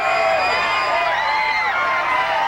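A Hollywood street crowd cheers and calls out steadily as Mel Gibson walks among them. The dense, continuous mass of voices has shrill individual shouts rising above it.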